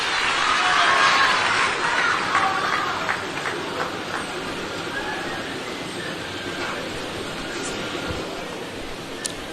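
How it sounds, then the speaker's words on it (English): Applause and crowd noise at a citizen town hall as a government minister takes the stage, a dense, loud wash that peaks early and then thins into softer, sustained clapping and chatter. "Let us give him a round of applause as he mounts the stage."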